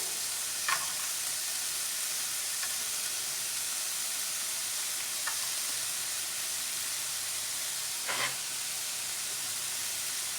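Cashews frying in a hot pan for chicken Thai basil, a steady broadband sizzle and hiss with a few faint scrapes of stirring, close and continuous with no talk.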